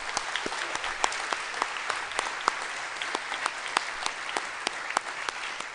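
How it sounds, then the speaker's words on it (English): An audience applauds Hall of Fame inductees at a Triton ceremony: steady, dense clapping with sharp individual claps standing out, sustained throughout. "let's give our Hall of Fame inductees one nice round of applause."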